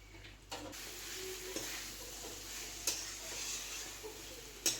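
Green banana curry being stirred in a pan, a soft continuous sizzle with a few sharp spoon clicks against the pan, fairly quiet and with no talking.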